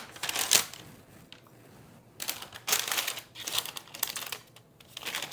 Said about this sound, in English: we're going to just put them right into the parchment paper